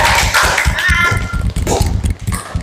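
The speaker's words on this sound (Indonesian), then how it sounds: "Ayo, tepuk tangan untuk kita semua terlebih dahulu." A classroom group practising a psychodrama counselling session claps together, producing a loud, quick run of hand claps with voices mixed in.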